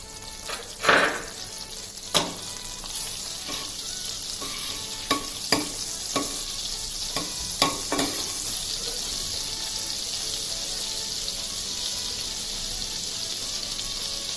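Cumin seeds frying in butter and oil for Mumbai pav bhaji, a steady close sizzle with scattered clinks and scrapes of a spoon against the pan.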